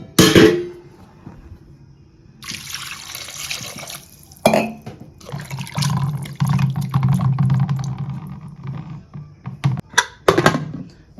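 Water splashes and pours into a metal pressure cooker holding chicken curry, with a clank of the lid and clattering kitchen sounds around it.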